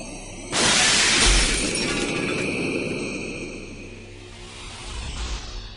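A glass skylight shatters as a staged audio drama effect: a sudden loud crash with a spray of breaking glass that rings and tinkles on, slowly fading over several seconds, with no voices.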